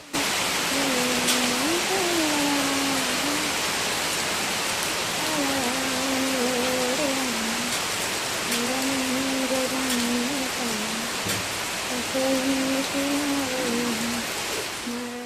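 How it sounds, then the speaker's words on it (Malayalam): Steady rain pours down in a dense, even hiss. A faint wavering tonal hum rises and falls intermittently beneath it. "ഉച്ച കഴിഞ്ഞപ്പോൾ അതെ വീണ്ടും മഴ പെയ്തു തുടങ്ങി"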